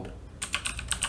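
Fingers type rapidly on a computer keyboard, a burst of about six or seven crisp, close key clicks in quick succession after a brief quiet lead-in, no voices.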